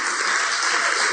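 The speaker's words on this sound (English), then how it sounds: "Let's have a nice round of applause for Rumble." A steady wash of audience applause for audio engineer Rumble at a live podcast taping in Portland, continuous and even throughout with no distinct individual claps standing out.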